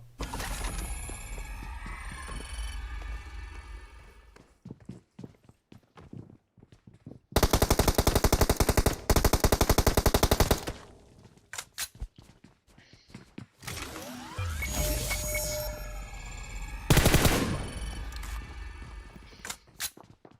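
PUBG Mobile gunfire comes in long, loud automatic bursts separated by quieter gaps with game movement and mechanical clicks, the heaviest stretches rattling rapidly and close, followed by shorter sharp volleys.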